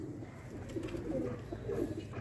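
Sialkoti roof pigeons cooing softly nearby, low throaty murmurs rising and falling over steady background hum, with faint rustling.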